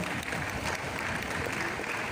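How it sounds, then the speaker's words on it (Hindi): A class audience applauds after a lecture, a steady, moderately loud patter of many hands clapping together indoors with no break across the whole stretch. "तालियां बजाएं।"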